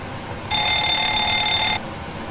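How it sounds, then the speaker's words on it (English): A steady electronic fire alarm tone sounds in a PMDG 737 cockpit in the flight simulator FSX, a continuous bell-like ring lasting about a second and a quarter over quiet cockpit background noise. "We've got to test the fire alarms."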